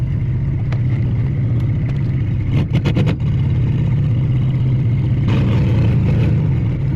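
A car drives along with a steady, loud engine drone and road rumble, broken briefly by a few rattling clunks from a rough patch of road.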